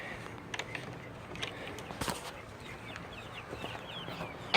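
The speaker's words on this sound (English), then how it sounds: "Say hello, little chicks." Chicks and fowl peep and cluck softly in a coop, scattered short calls rising over a low background hum, fairly faint and without talk.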